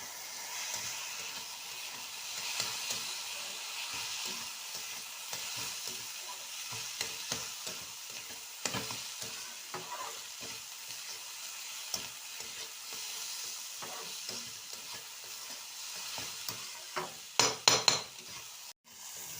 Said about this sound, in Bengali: দিয়ে এবার এটাকে ভালো করে কষিয়ে নেবে।